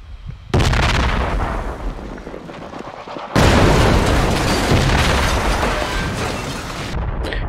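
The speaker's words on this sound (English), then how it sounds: "because that's a fucking explosion" Two heavy explosions in the military shooter Project Reality, each a sudden loud boom followed by a long rumbling, crackling tail, the second one bigger and sustained for several seconds.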